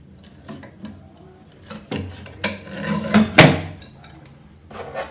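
Bench scroll saw cutting melamine board, with irregular knocks, rasping bursts and clatter building to a sharp loud crack midway, then quieter handling sounds.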